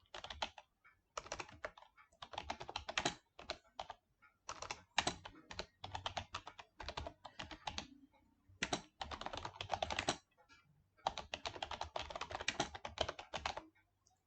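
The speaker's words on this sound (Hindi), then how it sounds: "पहले इधर क्लिक करके कुछ टाइप कर लेता हूँ" Fingers type on a computer keyboard in close, quiet bursts of rapid key clicks separated by short pauses, with no talking.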